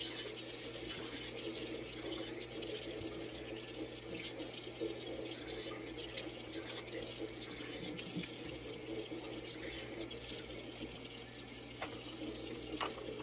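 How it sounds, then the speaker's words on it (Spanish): A tap runs steadily into a sink while a face is washed with room-temperature water, giving a continuous soft splashing hiss heard close and alone. "Me estoy lavando el rostro primeramente con agua al tiempo."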